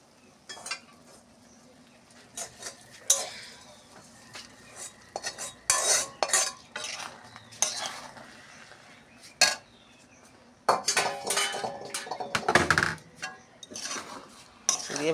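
A metal spoon stirs fried prawns into pulao in a pot, with irregular clinks and scrapes against the sides, quiet between strokes and busier toward the end.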